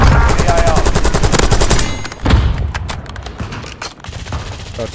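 Rapid automatic gunfire from a first-person shooter battle royale in Verdansk, loud and close for about two seconds, followed by scattered quieter shots and distant fire.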